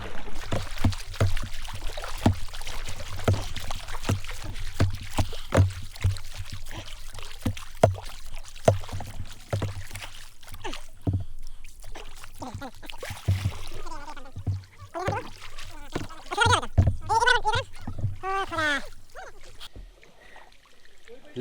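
A kayak is paddled on Mohamaya Lake, with repeated close splashes and water strokes in a steady rhythm, followed by someone talking toward the end.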